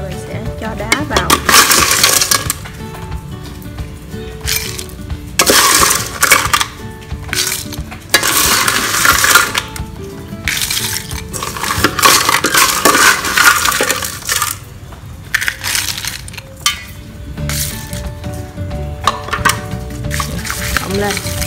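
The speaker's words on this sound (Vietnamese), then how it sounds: "Giờ mình sẽ đập nước đá mình bỏ vào ha." Crushed ice gets cracked and stirred into cantaloupe melon with milk, making repeated loud crunching, clattering and scraping bursts against a container. The noise comes in irregular waves with pauses between them, and a voice talks at times.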